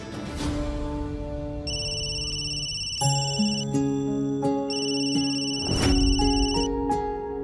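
An electronic phone ringtone plays a repeating melodic pattern of bright, sustained tones, loud and close, with no speech over it.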